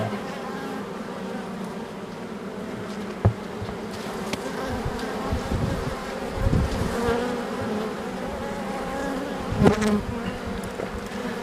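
Honeybee colonies that have recovered after swarming in late April hum steadily at the hive in a dense, continuous buzz, with a few faint knocks and no talking.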